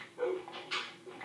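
A Minecraft dog making two short whimpering yelps a moment apart, close and moderately loud, alone without voices.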